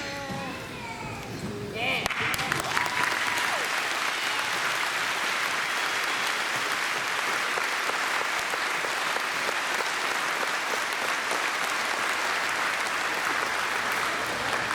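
A graduation crowd bursts into sustained, dense applause for military service members and veterans, steady and moderately loud after a brief stretch of speech at the start.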